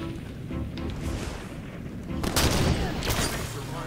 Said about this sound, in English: Sniper rifle time.